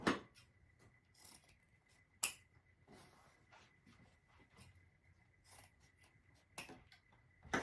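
Scissors snipping dovetail ends into the ribbon tails of a deco mesh bow: a few sharp, separate cuts spaced out over a quiet room, close and fairly soft, with no talking.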